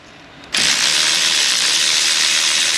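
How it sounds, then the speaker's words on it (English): A ratchet removes oil pan bolts on a 2012 Chevrolet Avalanche 5.3 4x4. A loud, close, continuous whirring buzz starts abruptly after a brief quiet moment and holds steady to the end. "I'm gonna go ahead and get all these bolts removed."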